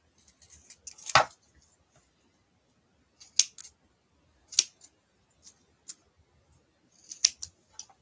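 Scissors snipping foam tape into small pieces for a handmade card, several crisp close cuts spaced a second or two apart in a quiet room.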